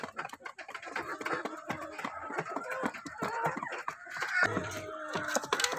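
Chickens, including a Chinese chicken and a Black Australorp hen, clucking and calling at close range in a steady busy stream of short clucks, fairly faint, with other fowl sounds mixed in.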